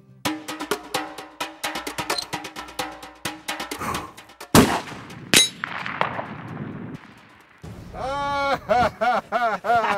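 A rifle shot fired at a steel target far downrange, heard as a sharp loud crack near the middle of the stretch and then a second bright impact. Voices talk before and after the shot.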